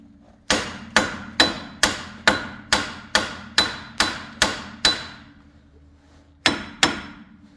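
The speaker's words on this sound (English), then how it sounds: "What I'm doing is I'm hitting it and turning it back and forth and getting it to slide." A hammer strikes a Jeep Grand Cherokee ball joint to loosen it: eleven sharp, ringing metallic blows in an even rhythm, a short pause, then two more, loud and close.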